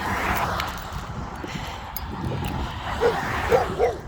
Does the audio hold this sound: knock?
no